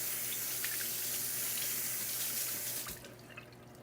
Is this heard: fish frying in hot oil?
no